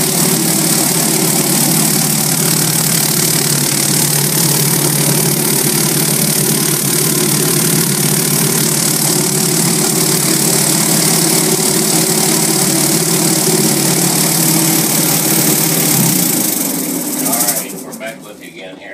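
A large rotary tumbler running with polishing compound makes a loud, steady mechanical drone and rumble close by, unbroken for most of the stretch before winding down near the end.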